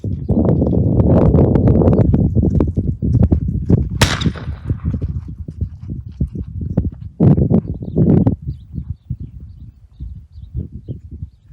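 A horse named Andy walks on a steady clip-clop of hooves while being started to gunfire. One sharp, loud crack cuts through the middle, and the hoofbeats carry on close and continuous afterward.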